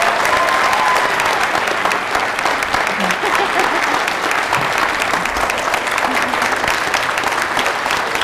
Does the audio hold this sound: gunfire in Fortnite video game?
no